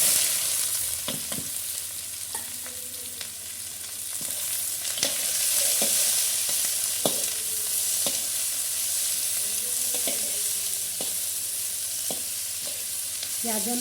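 Onions frying in a little oil, with cumin and garlic-ginger paste, for brinjal bharta cooked over a traditional clay stove, give a steady close sizzle broken by intermittent scraping and stirring knocks against the pan.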